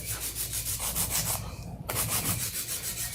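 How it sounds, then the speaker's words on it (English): Steady back-and-forth rasping of a nail file against fingernails, close and continuous, with a brief pause near the middle before the strokes resume. "If you do a smooth application, hand filing is the way to go."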